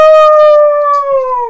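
A person imitates a wolf howl with the voice, one loud sustained close tonal howl that holds a steady pitch and slowly falls at the end.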